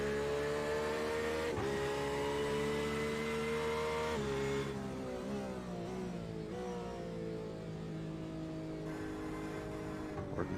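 A GT3 race car sweeps through a right-hand bend on a hilly technical course, its engine droning loud and steady, pitch dipping and rising as it works through the corner before climbing back up the hill.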